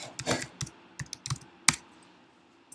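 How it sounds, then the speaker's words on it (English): Typing on a computer keyboard: a scattered run of crisp key clicks, close and fairly loud, in uneven bursts with a sharper tap near the end, no voices. "I'm just typing it here."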